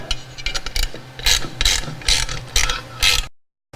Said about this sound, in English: I like to use a ratchet,